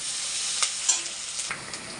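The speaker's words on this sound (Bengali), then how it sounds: "পেঁয়াজটা একটু ভেজে নেব।" Onions sizzle in a little oil under a constant close hiss, with a few soft scrapes and clicks from stirring.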